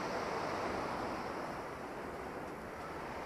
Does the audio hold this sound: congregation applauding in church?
no